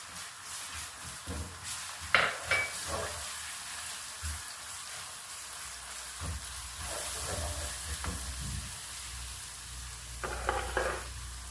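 Garlic-ginger paste sizzles and crackles in a hot pot with a steady frying hiss, broken by occasional scraping stirs; no voices.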